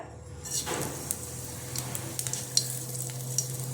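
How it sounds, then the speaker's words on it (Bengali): Black cumin seeds crackle and sizzle in hot oil in a pan for a Bengali katla fish paste dish, a steady close fry with scattered light pops and a low hum beneath. "এবার দিয়ে দেবো কালো জিরাটা"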